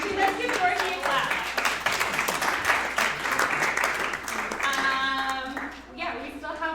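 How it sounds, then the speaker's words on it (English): Applause from members at a community association annual general meeting, honoring a long-standing member of sixty years; steady indoor clapping from a small crowd, with some voices and chatter mixed in toward the end. "let's give Dorothy a clap"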